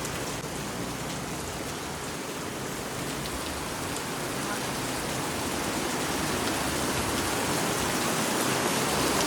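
Heavy rain pours down in a steady, dense hiss that stays loud and even throughout, like a constant downpour on surfaces nearby. No voices.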